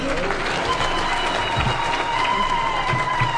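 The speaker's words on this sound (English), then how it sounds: "Can we give her a clap?" An audience at an International Women's Day event claps steadily for a few seconds, a dense continuous wash of applause from a large crowd.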